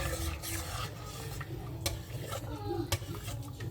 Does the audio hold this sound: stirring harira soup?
yes